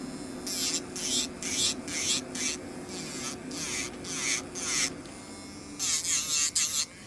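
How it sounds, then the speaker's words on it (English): An electric nail drill machine working on nails during a French back fill, a close steady high buzzing whine that repeatedly rises and drops as the bit touches and lifts off the nail, with a low hum underneath. "I'm gonna lower her so that I can go upwards with my machine without sacrificing the sides of my nails"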